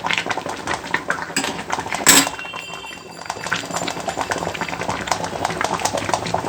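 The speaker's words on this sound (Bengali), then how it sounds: "এবার আমি আবার ঢাকা চাপা দিয়ে দেব" A metal lid is set back onto a pot of steaming egg bhapa, giving one sharp clank partway through against a soft bubbling simmer and light kitchen clatter.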